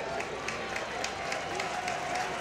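Applause from UC Irvine players and the crowd at a college baseball game against Oklahoma State, a steady spread of clapping that carries on evenly throughout, with no talking over it.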